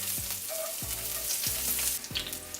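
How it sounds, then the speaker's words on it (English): Oil crackles and sizzles steadily as scallions and ginger fry in a pan, with a few soft stirring scrapes. "We're going to let them sizzle and really distribute all that delicious flavor into our oil"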